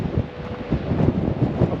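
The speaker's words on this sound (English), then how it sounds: "It's a bit windy." Wind gusts buffet the microphone at a campsite right on the beach along the Pacific 101, a rumbling, uneven low roar that swells and dips throughout with no voices.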